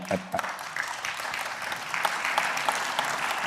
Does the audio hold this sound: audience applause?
yes